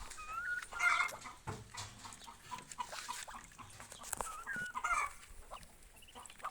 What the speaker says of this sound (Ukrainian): Такі наші качата.